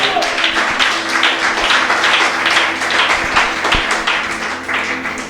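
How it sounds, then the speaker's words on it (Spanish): A church congregation claps together in sustained, dense applause during a Spanish-language worship service. The clapping stays loud and fairly even throughout, with faint voices mixed in. "Dale un aplauso al Señor, hermano, por eso."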